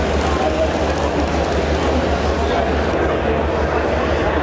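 An N gauge model train crawls along a layout at a crowded railroad hobby show, its steady rolling hum buried in loud, continuous hall noise and nearby chatter.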